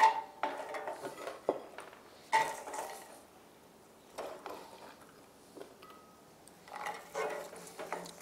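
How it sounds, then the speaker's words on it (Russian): Walnuts being stirred into hot caramel in a pan: intermittent clinks and scrapes of a utensil against the pan in short bursts separated by quiet gaps, fairly faint and with no talking. "Добавляем туда грецкие орехи."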